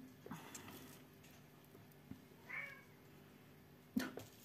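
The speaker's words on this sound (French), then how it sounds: "c'est dans l'entrée de la maison qu'il miaule comme ça" A faint cat meow rises briefly in a quiet house entryway, followed later by a short sharper cry, with soft scattered taps and knocks around it.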